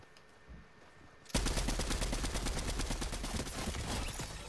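MK-Seven rifle firing in Fortnite, a sudden burst of rapid, loud automatic gunfire that keeps going steadily after a quieter opening moment.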